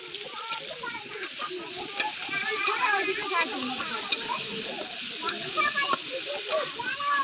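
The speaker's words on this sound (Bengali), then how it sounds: "আর হলুদ গুঁড়ো এই দিয়ে একসঙ্গে ভাজছি আমি আলুটাকে।" Potatoes frying with turmeric and a little salt in a pan give a steady sizzle broken by clicks and scrapes of stirring, close and fairly loud, with no voices over it.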